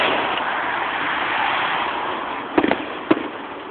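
Bonfire Night fireworks go off in the distance, a quick cluster of cracks and then one more pop, heard over steady wind-like outdoor rumble.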